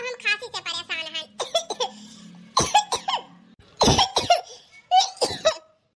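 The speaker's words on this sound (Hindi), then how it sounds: "बस सिर्फ बहुत खांसी आवत है" Several harsh, throaty coughs burst out in a cluster, loud and close, mixed with a person talking and wheezy, laugh-like breaths between them.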